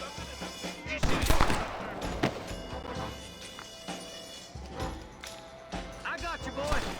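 Gunfire in a Western shootout in the video game Red Dead Redemption, a burst of several sharp shots followed by scattered single cracks under constant talking.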